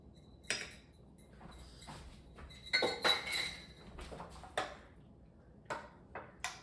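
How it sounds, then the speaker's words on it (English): Spoon stirring honey into yogurt and berries in a bowl, a run of clinking taps against the dish at an uneven rhythm, close and clear with little else around. "we're gonna give this a good stir"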